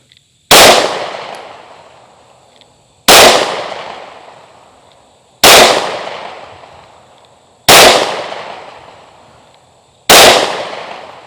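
Five loud, evenly spaced pistol shots from a Hellcat Pro Comp fired at targets, each a sharp crack with a long decaying echo, about two and a half seconds apart with nothing else heard.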